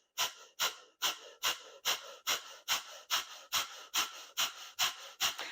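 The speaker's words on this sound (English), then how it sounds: "is a powerful breath that originates in the navel center and it comes through the nose" Breath of fire, rapid forceful breathing pushed out through the nose from the belly, comes as about a dozen sharp, evenly spaced huffs in quick succession, close and clear with silence between them.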